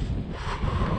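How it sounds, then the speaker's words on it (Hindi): Strong wind gusts roar outdoors at night beside a truck on a cold roadside during hitchhiking, a steady low rumble close to the microphone with no talk. "बहुत तेज हवाएं चल रही हैं"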